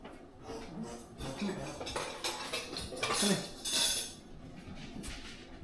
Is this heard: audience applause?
no